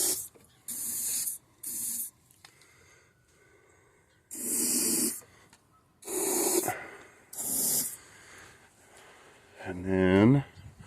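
Sharp bursts of aerosol spray into the cylinders of a 90 hp Mercury outboard, five hissing blasts of about half a second to a second each, close up, with quiet breathing and a voice near the end.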